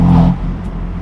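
A straight-piped BMW M4 exhaust gives a loud, rough roar that swells briefly and then fades into a lower rumble within about a second, with no voices.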